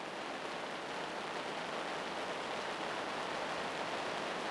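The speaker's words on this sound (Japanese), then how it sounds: "今日も大雨です" Heavy rain during a golf round, a dense even hiss of falling water that holds steady throughout, moderately quiet and with no voices.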